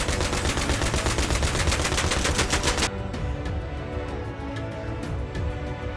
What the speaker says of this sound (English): The M2 has been in production since 1933, the longest service record of any weapon in the U.S. inventory, according to Gordon Rotman